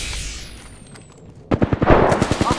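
Bursts of automatic gunfire in a video game rattle out in quick, loud, close shots after a quiet opening, with no talking over them.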